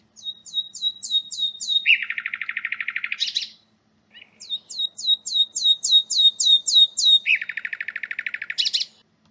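A nightingale sings whistle songs, clear and close with no other sound: a run of repeated rising whistled notes leads into a fast buzzy trill, and the whole phrase plays twice.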